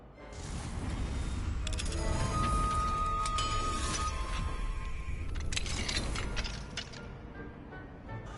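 Magical unlocking spell working a lock in the Hogwarts Legacy video game, a shimmering, chiming swell with clicking mechanical tumbling that holds for several seconds before fading out.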